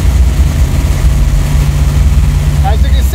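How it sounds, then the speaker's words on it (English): A carbureted small-block V8 race engine (Gen II LT1 in an S10) idles steadily after a cold start. Its deep, even rumble runs throughout, with a few light chirps near the end. "At this point, you just want to keep the motor running"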